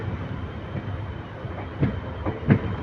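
A train passes near a level crossing on the Dindigul to Karur route, heard as a low rumble with a few distinct rhythmic wheel clacks toward the end, no voices.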